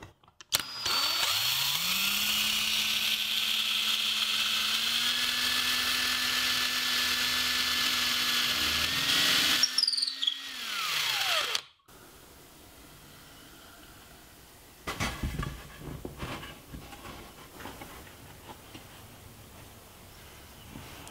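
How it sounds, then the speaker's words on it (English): A power drill toe-screws through a wooden headboard face frame into its legs, whirring loudly and steadily for about ten seconds with a rising pitch, winding down abruptly, then followed by quieter handling noises. "attaching the frame to the legs by toe screwing through the top and the bottom"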